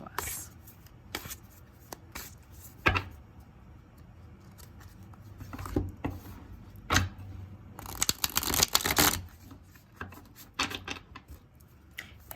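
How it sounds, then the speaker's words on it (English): A Wise Dog tarot deck is shuffled by hand in bursts of crisp riffling and card slaps, close and fairly quiet, with a louder flurry partway through and soft handling noise between. "this deck does shuffle like butter"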